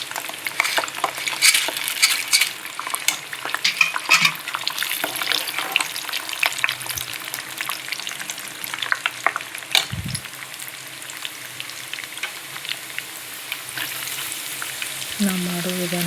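Dry coconut pieces and peanuts, with roasted gram, sizzle steadily in hot oil for churumuri, a close, continuous crackle broken by occasional scrapes of stirring and a low thump near the end.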